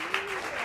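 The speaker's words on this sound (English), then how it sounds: "we do not allow applause during these sessions" Audience applause at a town council meeting, a brief steady wash of clapping from the room, fairly loud and continuous with no voices over it.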